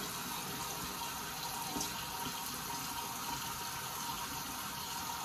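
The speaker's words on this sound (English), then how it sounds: "let's go ahead and get the face wet" Water runs steadily from a bathroom tap before a wet shave, a constant hissing splash at close range that fills the whole stretch with no talking.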